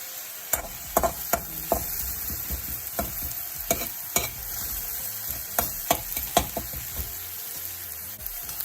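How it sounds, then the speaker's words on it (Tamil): Mustard seeds and onion fry in sesame oil with a dense, close sizzle, punctuated by repeated sharp spatula knocks and scrapes against the pan, fairly loud and without speech. "கடுகு பொரிஞ்சிட்டு இப்ப பாருங்க, பாதி அளவுக்கு வதங்கிட்டுது"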